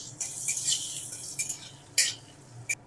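Diced potatoes fry with a little salt in a pan over a medium flame, a quiet steady sizzle broken by several sharp scrapes and clinks of a spoon stirring against the metal, with no voices.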